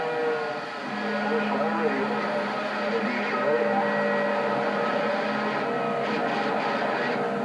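A train passing in Nashville, Tennessee, giving a steady, loud tonal drone with sustained horn-like pitches over a low rumble that holds for the full stretch without fading.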